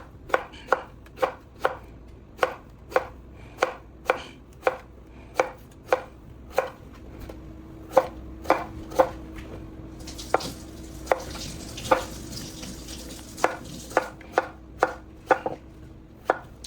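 Knife chopping zucchini on a cutting board for a vegan Chinese stir-fry, with about two dozen crisp, regular knocks at a steady pace. A faint sizzle of frying runs beneath the second half.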